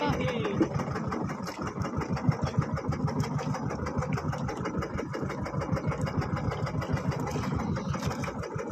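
A small boat's engine runs steadily close by with a fast, even, low chugging throb that never lets up, and a voice talks over it at times.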